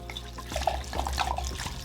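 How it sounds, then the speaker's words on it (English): White wine pours and splashes steadily over fruit in a container, with bubbling, gurgling sounds throughout; no voices. "So once we get our wine open, we just pour it in"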